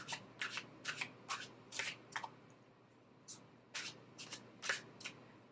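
A tarot deck is shuffled and gathered by hand, delivering a run of quick, close papery riffles and soft slaps in uneven bursts with brief pauses between them.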